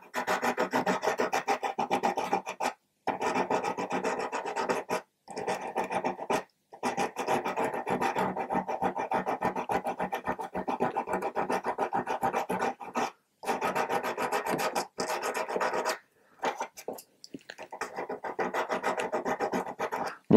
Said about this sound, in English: I've got a little bit of sandpaper, and we're just going to finish that shaping job.